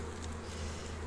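Honeybees from a newly bought swarm housed in a hive at an apiary, making a steady, close, continuous buzz with no voices over it.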